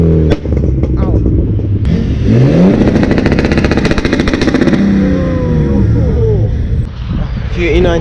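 Several BMW E92 cars pass by at a car meet, engines revving and sweeping up in pitch, loud and nearby, with a person's voice and crowd noise mixed in.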